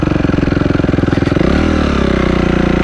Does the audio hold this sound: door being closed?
no